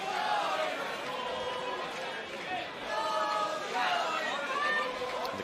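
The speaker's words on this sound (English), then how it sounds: "The crowd here in the Indigo making their voices heard for Sean McCormac." A crowd at the Indigo venue in London roars and chatters throughout a Cage Warriors MMA fight between Oban Elliott and Sean McCormac, with swelling cheers and a commentator talking over the noise.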